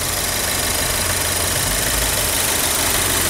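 A brand-new, showroom-condition Subaru WRX idles with a steady, continuous engine hum and low rumble, close by and alone with no talking.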